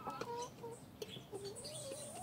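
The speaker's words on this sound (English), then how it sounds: "these are layer chicken" Layer hens clucking in a backyard coop, several birds calling in short, close, fairly loud bursts over a steady background hum.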